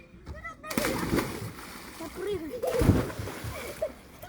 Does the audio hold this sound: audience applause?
no